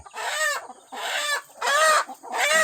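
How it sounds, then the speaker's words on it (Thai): Four loud, close calls from chickens and a rooster in a row, harsh drawn-out crowing and clucking cries separated by short pauses. "คือว่าไก่เพิ่นก็หลายพอสมควรนั่น"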